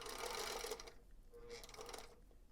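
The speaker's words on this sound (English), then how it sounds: "And we can get this sewn together with our scant quarter of inch." A sewing machine stitching a scant quarter-inch seam, two short bursts of quiet rapid whirring with a pause between, close and faint.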